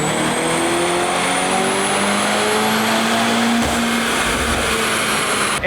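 A tuned Mercedes C63 on JB4 map 3 with 93 octane roars at full load on a dyno, a loud sustained engine pull whose pitch climbs steadily through the rev range with no pause.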